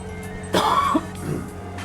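A single harsh cough, close and fairly loud, bursts out with a throaty follow-up, then trails into quieter breathy rasping.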